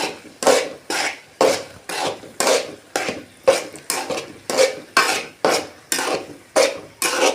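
Rhythmic scraping of a spoon stirring through a thick egg curry mixture with chilli powder in a pan, about ten regular strokes, close up, with no voices.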